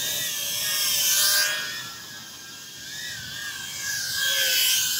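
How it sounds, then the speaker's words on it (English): An iFlight Alpha A65 brushless tiny whoop drone with 31 mm three-bladed props whines close by, its high motor pitch rising and falling as it swoops nearer and farther, with no talking. "So the props here and the motors and the way they sound"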